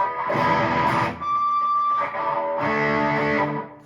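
An electric guitar played through a Distortion Plus pedal with no effects added, loud buzzing distorted chords and a sustained held note in short phrases close up, with no voices.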